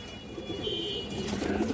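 A female brown-throated pigeon coos softly in a low, steady rumble, with faint higher bird chirps over a constant background hum; no one speaks.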